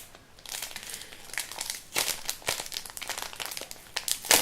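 A crinkly plastic package of organza butterflies being pulled open, continuous close rustling and crackling with sharper crinkles throughout.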